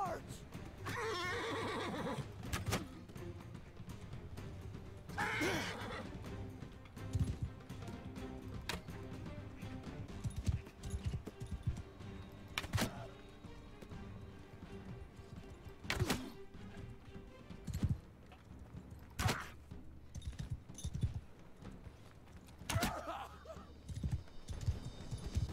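Horses neighing and hooves clattering during a cavalry battle in the medieval video game Mount and Blade Bannerlord, with loud whinnies and hoof thuds among constant battle noise while someone talks over it.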